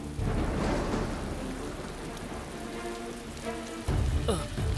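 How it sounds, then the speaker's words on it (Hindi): Steady rain patters on surfaces in a cartoon scene as a storm approaches, a continuous hiss with a sudden low rumble of thunder near the end. "लगता है तूफान आएगा।"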